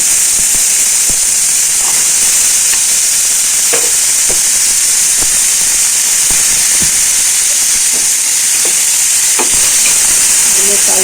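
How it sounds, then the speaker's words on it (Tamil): Potatoes and popped mustard seeds frying in hot oil give a steady, loud hiss with scattered small pops and crackles all the way through, close up and with no talking. "கடுகு பொரிஞ்சோடனே நம்ம அந்த உருளைக்கிழங்கையும் அதில் போட்டுக்கலாம்"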